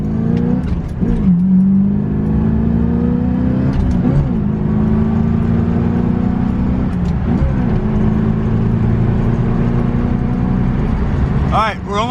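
A Corvette running with no exhaust accelerates through its gears, loud engine drone rising in pitch with brief drops at shifts, heard from inside the car while a person talks over it.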